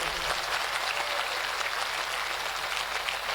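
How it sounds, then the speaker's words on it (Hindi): An audience claps steadily and continuously at a Shiv Mahapuran religious gathering in Garmeta, Amarwara, a dense, even round of applause with no voices on top. "1 मिनट के लिए ताली बजाएंगे।"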